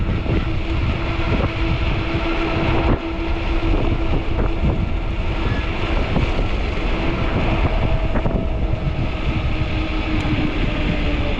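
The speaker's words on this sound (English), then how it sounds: "Oh, the wind's taking tree limbs." Strong wind gusts tearing at tree limbs, roaring steadily and loudly across the microphone as a constant broadband rush with no let-up, while riding outdoors on a 20-inch folding fat-tire e-bike.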